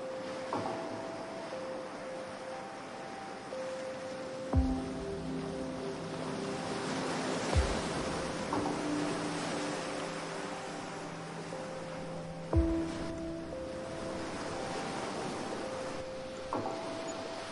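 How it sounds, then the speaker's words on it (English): Gentle ocean waves wash in slow, soft surges every few seconds beneath sustained calm musical tones. "The gentle waves rock you gently as you float, creating a rhythmic, calming sound."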